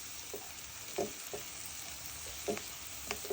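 Potatoes fry with fish roe in a pan, giving a constant close sizzle broken by several soft scraping stirs.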